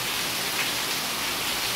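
Steady rain falls outside a home, a constant soft hiss of drops with no breaks, close and even throughout, no voices.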